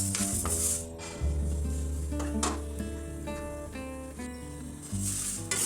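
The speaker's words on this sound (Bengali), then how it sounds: "প্রথমে আমি মুগ ডালগুলো এইভাবে হালকা একটু ভেজে নিব।" Moong dal dry-roasting in a pan in a home kitchen, with a faint sizzle, scraping and stirring against the metal and occasional clinks of a utensil, close and steady, with no talking.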